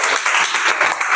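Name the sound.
classroom children clapping for a student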